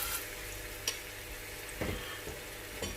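Chicken pieces fry in about two tablespoons of hot oil in a pan, a soft, steady sizzle with a few louder crackles and bumps as pieces are set in, and no talking.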